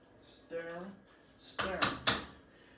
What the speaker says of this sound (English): I'm over here stirring